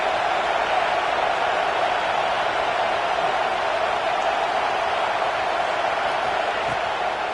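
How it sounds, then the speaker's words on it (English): Steady roar of a stadium crowd at a Florida versus Alabama college football game, cheering on the defense before a third down, loud and continuous throughout with no gaps. "Big 3rd down as the crowd gets behind this defense."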